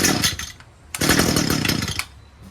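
A 1985 Ski-Doo Formula MX snowmobile engine running on choke after a pull start, giving a loud, rough buzzing roar that drops briefly to a quieter idle whir before surging again, then falls back near the end.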